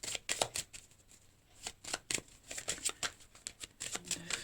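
Tarot cards are shuffled in a run of crisp riffles and soft flicks, close and fairly quiet, at an uneven rhythm with short pauses between bursts. No one speaks.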